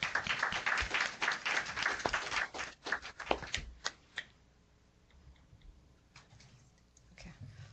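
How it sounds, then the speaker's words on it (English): An audience at a panel discussion on health equity applauds the panelists with a quiet round of clapping that thins out after a few seconds, leaving a near-silent room with a few scattered sounds. "Shall we give our panelists a round of applause?"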